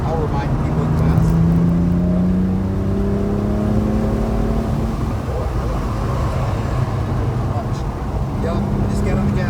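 Car accelerating hard on a track during a driving school session, engine note rising and sustained, loud and close, with an instructor talking over it.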